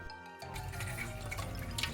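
Water gushing from the taps of a camper as the hot and cold plumbing is filled, a steady broadband rush with sputtering bursts of air, loud and close after a brief quieter start.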